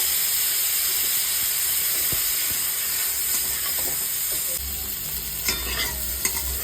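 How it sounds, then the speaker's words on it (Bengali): Close, constant sizzle of cauliflower frying in hot oil, punctuated by scraping stirs and a few sharp crackles near the end. "এবার আমি কফিটাও হালকা করে ভেজে নেব"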